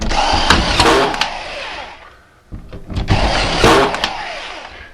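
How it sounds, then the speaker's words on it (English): A screw gun drives fasteners through a sheet seam into a steel framing nailer, two loud whirring bursts close by separated by a brief pause. "And hard fasten right to the nailer."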